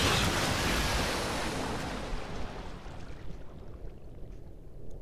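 A loud wash of water in Amnesia: The Dark Descent, broad and hissing at first, then fading over a few seconds into softer, uneven lapping and splashing, with no voices.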